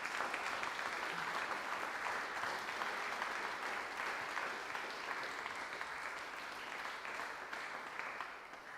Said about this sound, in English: I'd just like to have a big round of applause for the finalists